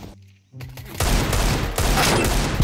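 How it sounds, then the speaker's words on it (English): Gunfire in the video game Counter-Strike: Global Offensive (CSGO) starts after a brief quiet moment and becomes loud, continuous rapid automatic shooting that fills the rest of the clip. "Shots fired!"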